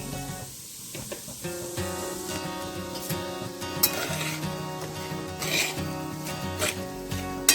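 Fine semolina being roasted in hot ghee in a pan, stirred steadily with a spoon, giving a continuous soft scraping sizzle with occasional metallic clinks.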